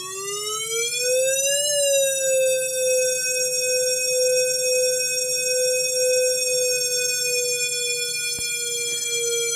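Synthesizer tone shaped by an attack, decay, sustain, release envelope: a single bright note glides up in pitch, then holds steady and loud for several seconds, heard alone.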